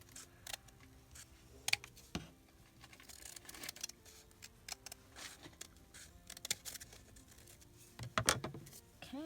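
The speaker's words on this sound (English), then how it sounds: "we're going to go ahead and cut that right up to the flower" Scissors cutting paper for a handmade mini journal, quiet irregular snips and paper rustles close by, with scattered small clicks and pauses.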